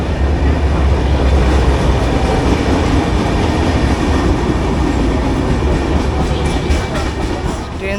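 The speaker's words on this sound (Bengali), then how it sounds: "ট্রেন ছেড়ে দিল ফাইনালি।" A local train pulls out of Dankuni bound for Sealdah with a loud, continuous rumble of wheels and carriages, rhythmic clatter rising through the run as it gathers speed.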